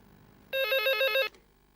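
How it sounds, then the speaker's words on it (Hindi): A home landline telephone rings once, a short bright electronic trill heard close and alone in a quiet room. "मैंने अपने मोबाइल से घर के नंबर पे फोन करना शुरू किया।"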